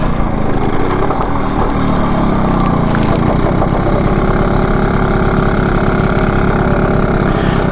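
A BSA Bantam motorcycle engine idles steadily at close range, a continuous low chugging tick-over with no breaks, running alone without voices for the whole stretch.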